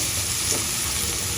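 Garlic, ginger and onion frying in oil for pulao, a dense continuous sizzle with light stirring, brief and close, no voices.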